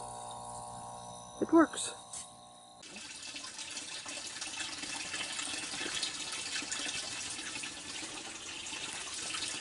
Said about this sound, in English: Lots of bubbles.